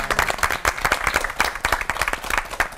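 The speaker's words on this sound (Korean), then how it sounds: "귀한 말씀 나눠준 세 분 목사님께 뜨거운 박수 부탁드립니다" A small church audience claps warmly for three pastors after a Romans teaching session, a brief burst of dense, close applause.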